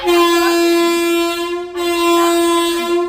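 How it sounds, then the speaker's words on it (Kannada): A loud, close horn from a passing train blares in two long sustained blasts, the second following a brief break. "ಅಯ್ಯೋ ಟ್ರೈನ್ ಗೈಸ್, ಸಾರಿ."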